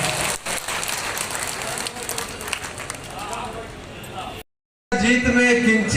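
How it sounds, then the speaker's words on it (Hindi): Dense clapping from BJP party workers at a campaign workers' meeting in Biaora, Rajgarh, continuing for over four seconds, then a brief cut to silence before a voice speaks. "जोरदार तालियां, एक बार जोरदार तालियां होनी चाहिए।"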